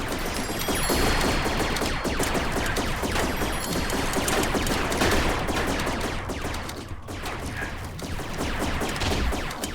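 Loud grenade explosions and rapid bursts of gunfire fill a Rec Room game match, a nonstop close-range barrage with one brief dip before the firing surges again.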